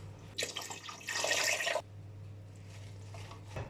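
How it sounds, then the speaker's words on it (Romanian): Water pours from a tap into a pot of oiled chard stems, garlic and potato, a brief bright splashing rush for under two seconds over a steady low kitchen hum. "completăm cu apă"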